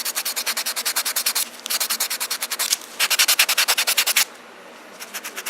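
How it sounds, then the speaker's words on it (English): A nail buffer rubs back and forth over gel nails in fast, even strokes, a close dry scratchy swishing in rhythmic runs with brief pauses between them, and no talk. "And I buff throughout."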